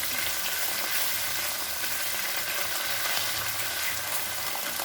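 Spice paste with salt frying in a pan for a curd-style catla fish dish, a loud, dense, unbroken sizzle heard close up with no talking.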